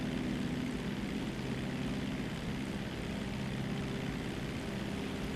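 Propeller airplane engine in GTA V during a landing approach, a faint, steady droning hum with no voices over it.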